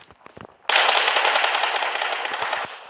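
Sustained burst of automatic gunfire in the PUBG Mobile video game, a loud continuous rattle lasting about two seconds after a few quieter scattered shots.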